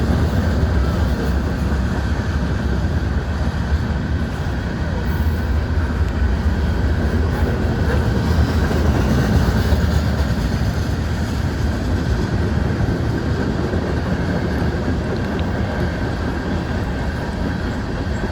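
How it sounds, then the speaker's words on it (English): An eastbound freight train rolls past in New Castle, Indiana, a steady loud rumble of wagons that holds for the whole stretch with no break. "Eastbound train 143, Newcastle, Indiana."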